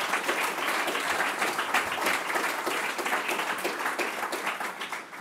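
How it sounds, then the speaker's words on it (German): Sustained, dense applause from a lecture audience after a political talk, loud and continuous for about five seconds, slightly fading at the end, with no speech over it. "danken Sie Herrn Mausch für die heutige Veranstaltung mit einem kräftigen Applaus"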